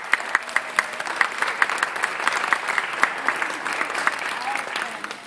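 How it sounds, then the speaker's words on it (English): A crowd claps steadily with sharp individual hand claps standing out, a lively round of applause from a nearby audience. "Can we give the helper teachers a big round of applause?"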